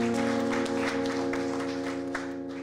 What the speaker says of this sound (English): keep that clap going one more time